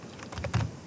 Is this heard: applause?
no